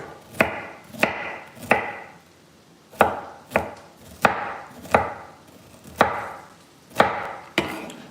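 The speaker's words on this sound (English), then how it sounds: "We're chopping the broccoli, everybody." A knife chops broccoli on a cutting board with about a dozen sharp, close knocks at an uneven, unhurried pace, each followed by a brief rustle, with no talking.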